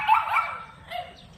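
A native askal guard dog barks from behind a farmhouse, a couple of short yelping barks at moderate distance over a faint low background, with no speech.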